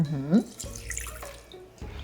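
Water pours into a Thermomix bowl for dough, a short gurgling splash up close that fades to a softer trickle, with a voice briefly audible at the start.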